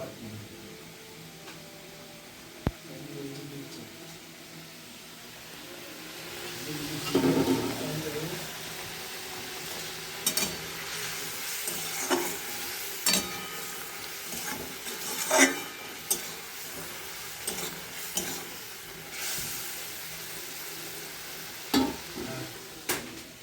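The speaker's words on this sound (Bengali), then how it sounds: "চলো আলুগুলো ভেজে নিই" Potatoes fry in a pan in a home kitchen, with a steady low sizzle and scattered clinks and scrapes of stirring and utensils against the pan throughout.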